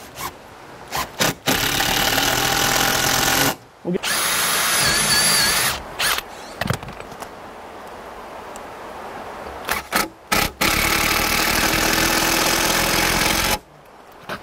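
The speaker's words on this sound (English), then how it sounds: "we're just going to bolt this beam into these post bases" A hex driver drives bolts that fasten a wooden beam into post bases outdoors, its loud close whirring motor running in long bursts separated by brief pauses.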